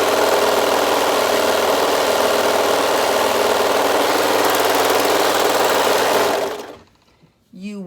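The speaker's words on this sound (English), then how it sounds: "when we go with our knit fabric in a serger, let's just run it through here really quick" A serger sewing machine runs knit fabric through at high speed, a loud, continuous rapid whirring buzz for about six seconds that stops abruptly, after which a voice briefly speaks.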